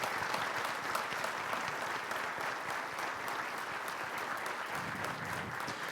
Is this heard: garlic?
no